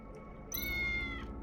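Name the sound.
cat meowing in the video game Tales of the Neon Sea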